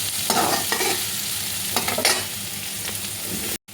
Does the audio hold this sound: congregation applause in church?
no